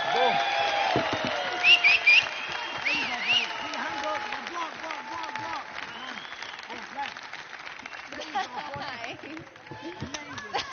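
Crowd at a UFC Fight Night weigh-in in London applauding, a continuous wash of clapping with scattered cheers and chatter, with voices talking over it and a few louder bursts near the start.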